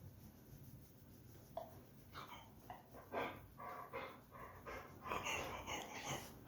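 A dog pants softly in a quiet room, quick rhythmic breaths close by with faint rustling behind them, low in level and with no talking.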